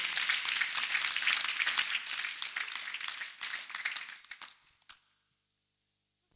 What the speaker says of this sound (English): Let us once again clap for Master Jesus.